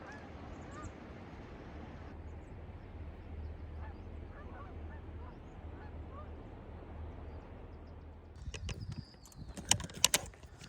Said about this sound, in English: Comes a flock of geese.